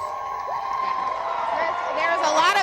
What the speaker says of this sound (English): I'm going to turn around a little bit because there's cheering